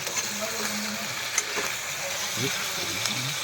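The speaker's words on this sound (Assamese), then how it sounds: "এতিয়া মাংস ভাজোঁ আৰু মাংসটো মই হিলাই আছোঁ" Meat fries in hot oil with a steady close sizzle, stirred now and then with soft scraping strokes.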